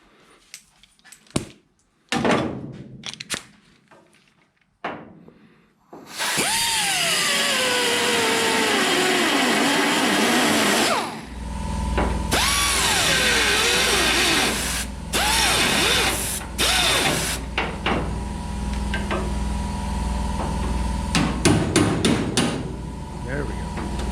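A pneumatic air tool works on bolts during a Cobra Jet engine rebuild, with a loud, sustained buzzing rattle lasting several seconds at a time, broken by clanks, pauses and short bursts.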